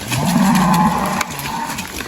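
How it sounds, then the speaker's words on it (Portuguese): A Sindi cow on a cattle farm lets out one loud, close, drawn-out moo lasting about a second, with quieter farm background after it. "Ali temos uma outra vaca PO."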